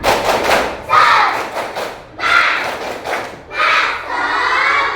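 Schoolchildren in an elementary classroom at SD 2 Dalung perform the spirit clap, with loud bursts of group clapping and shouting coming in about four energetic waves, close by.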